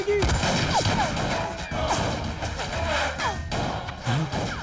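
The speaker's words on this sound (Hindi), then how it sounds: "अंदर फायरिंग हो रही है सर" Gunfire erupts during a movie heist scene, a dense fusillade of sharp cracks and thuds mixed with shouting voices, loud and chaotic throughout.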